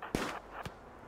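Two sharp gunshot-like bursts from the RimWorld video game, the first louder, the second a fainter crack about half a second later, with no talk.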